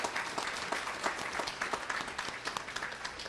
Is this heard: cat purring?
no